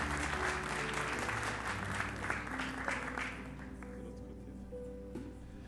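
A church congregation applauds a family presenting their baby son, sustained clapping from a crowd that gradually thins and fades toward the end.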